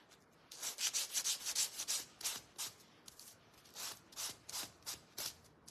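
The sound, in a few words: sanding small black craft pieces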